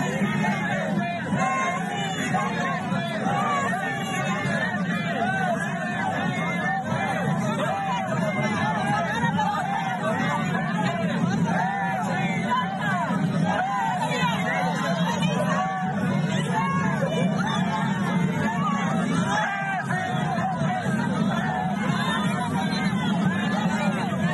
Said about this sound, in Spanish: escuchemos que lo siguen vitoreando y hablan precisamente de una gran cantidad de gente